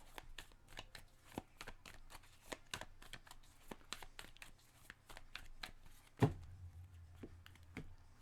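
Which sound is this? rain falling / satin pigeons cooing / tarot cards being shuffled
tarot cards being shuffled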